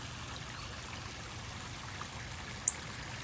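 Steady, soft rushing of a waterfall flowing into a pond, a constant even wash of sound with no voices.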